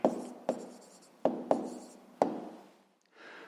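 Pen strokes writing down a maths answer by hand on paper, five sharp taps each trailed by a brief scratch, close and soft, then a faint rub at the end.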